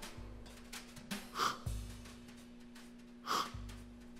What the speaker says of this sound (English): I start with the aroma, short, deep sniffs